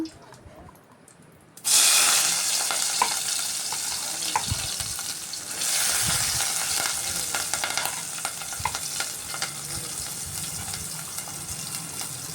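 Onion and green chili hit hot oil, a quiet start breaking into a sudden loud hiss that settles to a steady close sizzle, with a second surge partway through and occasional stirring knocks.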